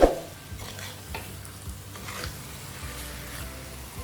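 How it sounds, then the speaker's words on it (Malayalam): Raw washed chicken stirred with masala in a hot pan, a steady close sizzle of frying with scraping stirs of a spoon against the pan, no talking. "അത് നമുക്കിട്ട് മസാലയൊക്കെ നല്ലവണ്ണം ഒന്ന് പിടിപ്പിച്ചു കൊടുക്കാം."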